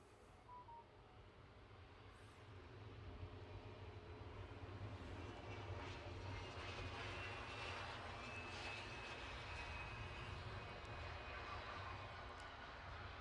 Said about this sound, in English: Loganair inbound from Southampton, as is customary for that route, and an ERJ 145.